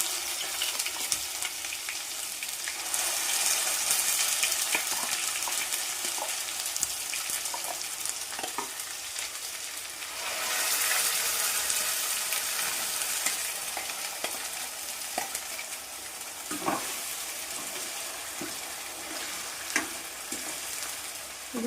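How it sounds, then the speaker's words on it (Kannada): Chicken masala fried and stirred in a pan for Bijapur-style chicken, with a steady close sizzle and repeated scraping stirs, swelling louder in bursts as the pan is worked. "ಚೆನ್ನಾಗಿ ಫ್ರೈ ಆಗಬೇಕದು"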